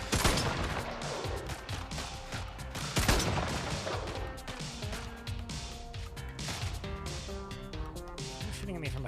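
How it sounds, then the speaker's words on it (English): Sustained gunfire in the video game Brigador Killers, dense bursts of shots aimed at the player's character, continuing steadily and fairly loud throughout with heavy impact crashes mixed in. "Who's shooting at me from behind?"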